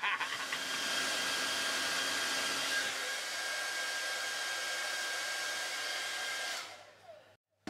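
A hairdryer blows a steady loud rush of air at a plastic disc set between it and a CD case, holding a constant whoosh for several seconds before cutting off sharply.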